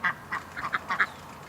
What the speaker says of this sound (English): There might be like maybe 15, 20 ducks in the yard.